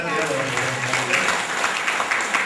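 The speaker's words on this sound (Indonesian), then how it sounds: "kasih tepuk tangan untuk peserta ya" A workshop audience applauds the participants, a steady patter of clapping spread through the room and kept going throughout, with voices mixing in beneath the hands.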